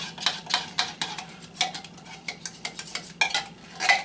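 A utensil scrapes leftover ham and hashbrown mixture from inside a can in a series of rhythmic, close scraping and clinking strokes, roughly two per second, with no talking.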